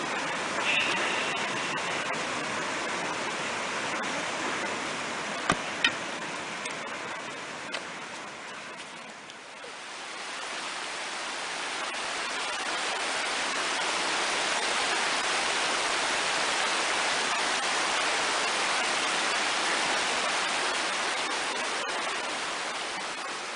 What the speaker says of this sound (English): There's a beautiful river.